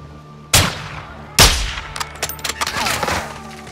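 Gunfire in the video game Call of Duty: Modern Warfare II, two loud sharp shots followed by a scatter of quieter shots and clangs, close and without talk.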